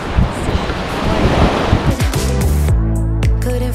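Surf washing onto a beach of long white sand and clear water beside Maho Beach in St Maarten, a steady loud roar of breaking waves with wind buffeting the microphone and no voices.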